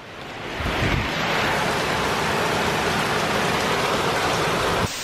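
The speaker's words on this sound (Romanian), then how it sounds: "Plouă afară, frate, zici că plouă" Heavy rain pouring outside, a loud, steady wash of hiss and drumming that swells in within the first second and holds evenly, then cuts off abruptly near the end.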